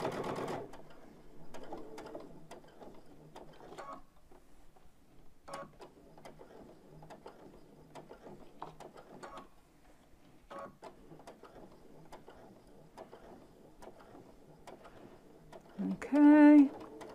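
A sewing machine runs in short bursts of rapid mechanical ticking while top stitching a cute dog softie in the hoop, pausing between runs, with a louder burst near the end.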